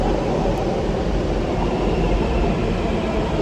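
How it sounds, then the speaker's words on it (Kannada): Metro train at a Bangalore metro station, a loud continuous rumbling roar of the train running close by, steady throughout with no speech. "ಸೊ ಇವಾಗ ಮೆಟ್ರೋ ಸ್ಟೇಷನ್ಗೆ ಬಂದಿದ್ದೀವಿ"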